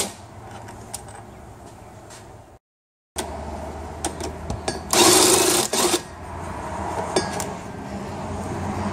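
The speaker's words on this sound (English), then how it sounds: "and then you can hit them with the rattle gun." Short bursts of metallic rattling and clinking from an impact wrench loosening transmission bolts on a 4L60E/4L65E automatic transmission, close and fairly loud, broken by brief gaps, with one longer harsh burst in the middle.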